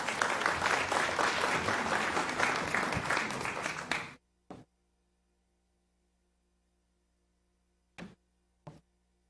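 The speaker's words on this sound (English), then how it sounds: "Let's give her a round of applause." A round of applause fills a council meeting chamber for about four seconds, dense and steady, then cuts off abruptly, leaving near silence broken by a few isolated knocks or taps.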